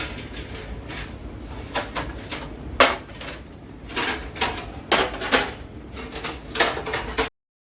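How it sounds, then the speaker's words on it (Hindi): Dried kitchen utensils being put back into place after washing, giving a run of knocks, clinks and clatters in uneven bursts, close and fairly loud, with no talking. "तो बर्तनों को अब अपनी जगह पर लगा रही हूँ।"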